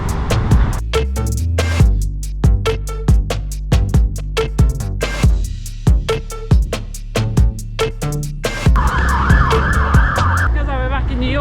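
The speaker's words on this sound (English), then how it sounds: "The soothing sound of sirens relaxes me." Emergency vehicle sirens on a city street, heard loud and close beneath a rapid series of sharp percussive knocks, with a wailing siren tone rising clearly toward the end.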